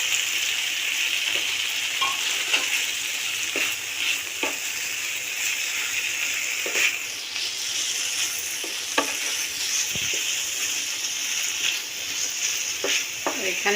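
Cut flat beans fry with spices in a pan, a constant close sizzle broken by frequent scraping stirs; ilish fish curry being cooked with winter vegetables.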